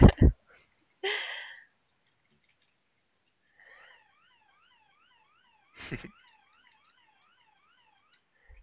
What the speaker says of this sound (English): Here's the mothership. You can definitely hear that.